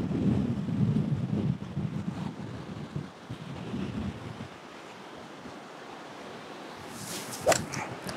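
Wind gusts buffet the microphone on a seaside golf course, with surf rolling in behind; a broad, steady roar that eases midway, with a few brief knocks near the end.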